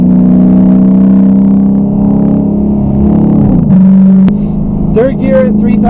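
Dodge Charger R/T (2011–2018 generation) with mid-muffler and resonator delete pulling hard in second gear near 3,500 rpm, a loud steady exhaust drone rising in pitch, then a brief shift break and fresh growl heard from inside the cabin.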